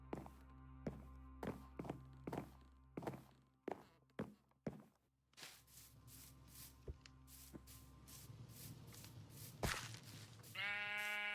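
Blocky sheep in the Minecraft survival game bleat in short, nasal calls, mixed with footsteps, soft thunks and tapping; a sustained bleat closes the passage, with no talking.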